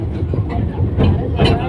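A toy train ride at Veli tourist village, with a loud, close rumble and rhythmic clatter of the moving cars throughout a short stretch.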